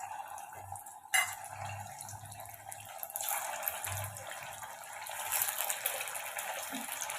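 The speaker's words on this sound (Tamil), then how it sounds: "இப்போ நம்ம சிக்கனையும் நம்ம வறுத்து எடுத்துக்கலாம்." Chicken pieces fry in hot oil for a simple non-veg dish, giving a steady sizzling hiss with a sharp burst near the start. The sizzle thickens and grows louder in the second half, with no talking.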